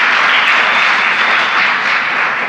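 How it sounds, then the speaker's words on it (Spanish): Church congregation applauding during a Sunday service, a dense, loud, sustained wash of clapping from many hands filling the room without a break. "Vamos, aplauda al Rey de Gloria."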